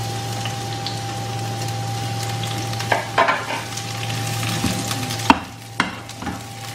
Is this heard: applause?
no